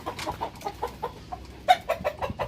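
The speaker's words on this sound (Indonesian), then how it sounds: "Wes malah bikin berisik ayam-ayam ya" Chickens cluck in short, repeated bursts nearby, with one louder squawk partway through.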